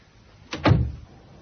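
A door is pushed shut in a radio drama, a close two-part thud as it swings and latches, alone against a quiet background.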